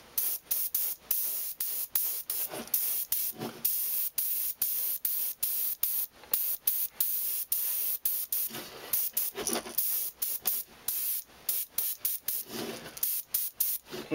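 Bursts of spray paint hiss in short repeated pulses onto a crankbait fishing lure, steady and close, with brief pauses between each spritz.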